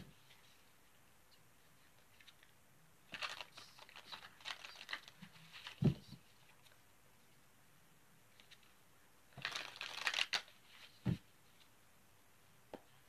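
Tarot cards being shuffled at close range in two short bursts of riffling and flicking, with soft taps in between and near silence around them.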